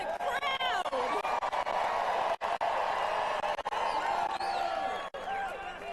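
A large crowd at a political rally in Phoenix, Arizona cheers and roars continuously and loudly, with whistles and shouts rising above a steady wall of voices.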